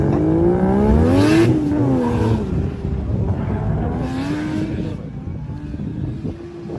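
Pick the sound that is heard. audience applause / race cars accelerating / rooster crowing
race cars accelerating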